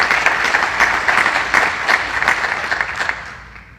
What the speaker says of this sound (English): let's give all of those folks a round of applause as well